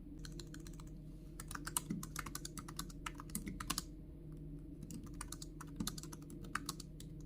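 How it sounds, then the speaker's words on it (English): Fingers type steadily on a ProtroArc foldable travel keyboard. The keys give quick, fairly quiet clicks in irregular bursts with brief pauses, heard close up and alone. "Overall, typing on the keyboard is pretty comfortable."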